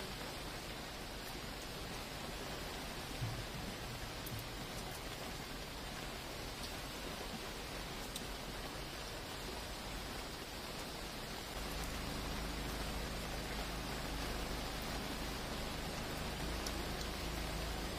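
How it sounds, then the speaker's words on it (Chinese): Steady rain falls at dusk beside a river, a dense, even hiss that holds for the whole stretch and grows slightly heavier and fuller toward the end, with no voices. "傍晚，雨还下大了。"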